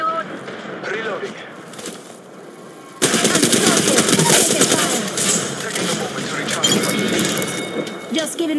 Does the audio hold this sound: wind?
no